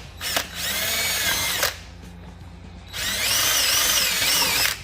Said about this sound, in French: Je me sers d'une petite mèche pour être sûr que ça tasse pas.